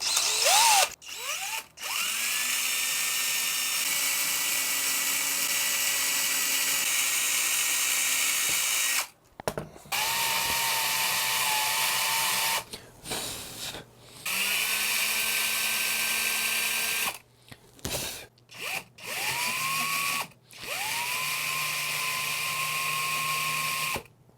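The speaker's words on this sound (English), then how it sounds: "Let's get these holes drilled in here." A power drill bores side-dot holes in a guitar in repeated bursts, whining up to speed, holding a steady high pitch and then stopping, close and fairly loud with short pauses between holes.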